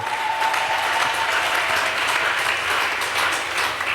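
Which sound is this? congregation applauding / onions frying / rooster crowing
congregation applauding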